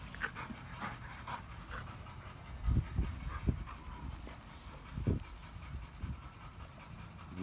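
Dogs pant steadily outdoors on a hot December day, with quick rhythmic breathing close by and a few louder low huffs partway through, no talk over it.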